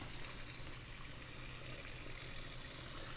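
Water sloshes and runs while rice is rinsed in a kitchen to clear the milky starch, a soft, steady, even wash of sound heard fairly faint and close, with no talking.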